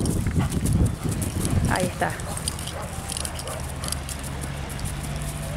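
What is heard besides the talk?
horse stamping its hooves in place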